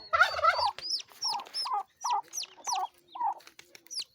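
A mother hen and her chicks in a village yard: about eight short clucking calls, each paired with a thin rising peep, repeat in a steady rhythm at close range with no talk.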